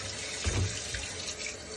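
Chunks of red meat for a village-style boiled meat dish are rinsed under a running kitchen tap, a steady close water flow with a brief heavier splash near the middle.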